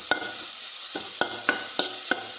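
A spoon scrapes through vanpayar thoran with grated coconut in a sizzling pan, with about six sharp stirring strokes at a loose, steady rhythm over a continuous hiss of frying.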